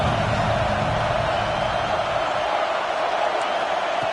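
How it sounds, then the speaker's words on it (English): A stadium crowd roars in the College Football 26 video game, a dense continuous wash of cheering at steady volume, no talking. "the crowd now really getting into it"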